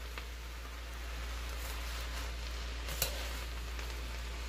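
Napa cabbage stir-fries in a pan with a soft, steady sizzle over a low electrical hum, with light stirring scrapes and one sharper clink near the end.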